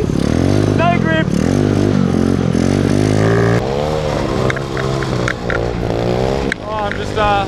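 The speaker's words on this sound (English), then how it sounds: "I'm just riding along one-handed on my little Zoomer here." A Honda Zoomer mini bike is ridden slowly, its small engine droning and shifting pitch steadily up close beneath a person talking throughout.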